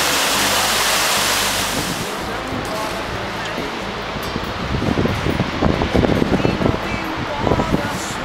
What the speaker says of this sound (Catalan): Mucha cascada. Muchísima cascada.